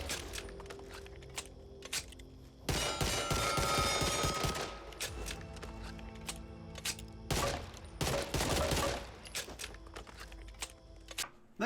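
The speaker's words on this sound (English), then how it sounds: "We've also got the Glock 23 Standard, which has got very high stopping power, low recoil, half decent magazine size" A Glock 23 pistol fires in Back 4 Blood, sharp close shots in quick clusters with two heavier sustained bursts, interspersed with mechanical clicks and handling noises during a weapon showcase.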